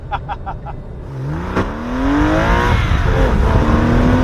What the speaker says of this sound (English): they don't make cars that sound like this anymore